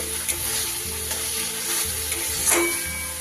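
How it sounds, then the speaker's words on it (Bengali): A spice paste fries in oil for a rohu fish curry, producing a continuous close sizzle with rhythmic spoon scraping and stirring strokes throughout. "মশলা কিন্তু এইবার আমার খুব ভালো করে কষা হয়ে গেছে আস্তে আস্তে আবারও তেলটা ছেড়ে দিয়েছে"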